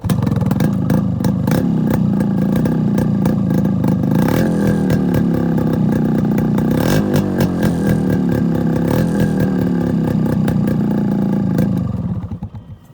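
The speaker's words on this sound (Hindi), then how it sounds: "हम इसका एग्जॉस्ट नोट सुनेंगे और फेमस एग्जॉस्ट नोट को ध्यान से सुनते हैं।" A Yamaha RX100 two-stroke motorcycle engine runs close by, idling and revving with a raspy, crackling exhaust note before fading out at the end.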